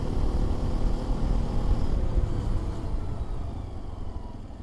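A 2025 Hero Xpulse 210 motorcycle rolls along with broadband engine and road noise, then the rumble gradually eases as the rear brake slows it to a stop.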